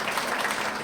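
Audience applause fills a film screening hall, a dense, steady clatter of many hands that holds at full loudness without pause.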